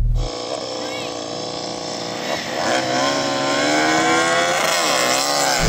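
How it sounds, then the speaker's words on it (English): A MotoGP racing motorcycle engine revving hard and climbing in pitch, loud and close, its note rising and wavering as it accelerates, with a voice talking over it. "Now let's have a listen to that MotoGP bike"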